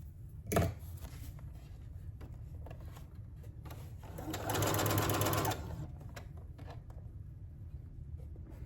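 A sewing machine stitches a folded saree edge, running steadily at a low hum with a brief louder burst around the middle; no talking.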